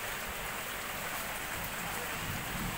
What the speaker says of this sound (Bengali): প্রচুর পরিমাণে বৃষ্টি হচ্ছে যে পুকুর ভরে গেছে